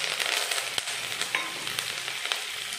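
Cumin, chana dal, urad dal, chopped green chillies and curry leaves tempering in hot oil for rava idli, giving a steady close crackling sizzle with sharp pops and stirring scrapes, no voices.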